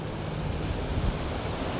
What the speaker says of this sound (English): Just look at these waves.